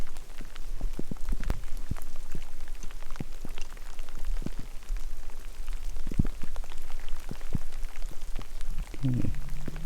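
Rain pattering steadily on surfaces during an elk hunt in the Colorado woods, a dense close patter with scattered louder drop ticks throughout, no voices over it.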